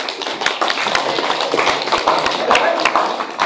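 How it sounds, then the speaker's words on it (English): A lecture class applauds together, a steady spread of many hands clapping closely, with sharp individual claps standing out over the dense patter for a few seconds. "give it a big clap"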